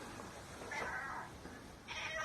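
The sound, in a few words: cat meowing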